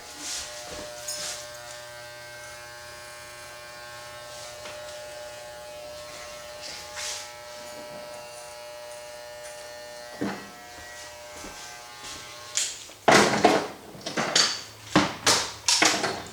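Electric hair clippers buzz steadily and close up while shaving a military-style flattop haircut, the motor hum running throughout, then broken into several short, louder bursts near the end as the clippers move over the head.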